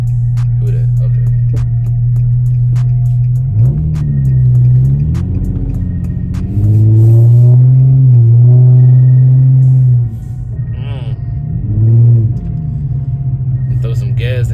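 A car started and driven for the first time in six months, its engine giving a steady low rumble and hum with a few rising revs, while people talk over it throughout.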